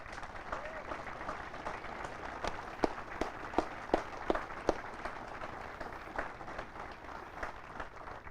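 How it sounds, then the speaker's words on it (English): Crowd in the bleachers applauds at an Army cadet command change-of-command ceremony, a broad sustained patter of clapping with a few sharper, louder claps standing out midway, and voices murmuring underneath. "Please, everyone, give me a loud, thunderous applause for the Evans family."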